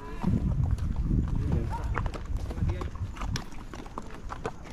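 Horses pass below on a road, hooves clip-clopping in a quick irregular patter amid crowd noise and people talking nearby.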